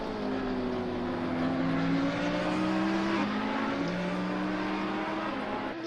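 Race cars at the Pace Motorsport race run down a straight, engines roaring loud and continuous with sweeping tones that climb, dip at gear changes and overlap as several cars pass together.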